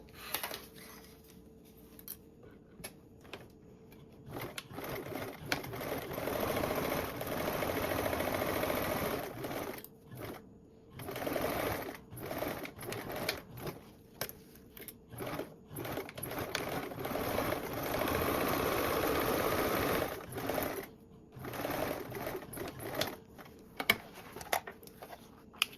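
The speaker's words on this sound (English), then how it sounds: "And now I'm going to go ahead and sew across both of these with a" A sewing machine stitches a quarter-inch seam across fabric layers for a tote bag, running in several long, steady bursts of rapid mechanical whirring and clatter, separated by short pauses, close by.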